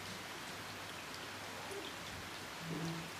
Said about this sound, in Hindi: यहाँ पे तो बारिश हो रहा है